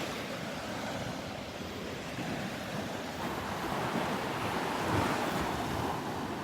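Ocean surf breaks and washes continuously on the beach at Delnor-Wiggins, a broad steady roar mixed with wind buffeting the microphone, with no voices.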